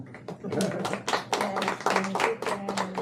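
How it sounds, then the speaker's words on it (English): Clapping from a small group gathered in a family home for a Zikaron BaSalon memorial evening, a brisk run of hand claps mixed with voices and chatter throughout. "A round of applause for that."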